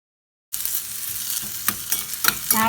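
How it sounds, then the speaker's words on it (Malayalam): Small sliced shallots frying in a spoonful of ghee give a close, steady crackling sizzle after a brief silence, punctuated by sharp spatter pops and stirring scrapes. "ഇനി ഇതിലേക്ക് ചെറിയ ഉള്ളി നെയ്യിൽ വറുത്തിടണം."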